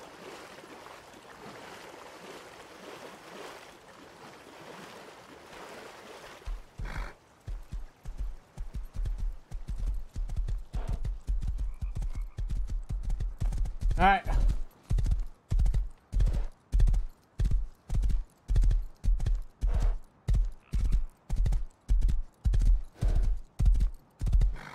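Horse hooves in the video game Rust, first soft and splashy, then a steady, regular clip-clop that grows louder and continues in an even rhythm with no talking.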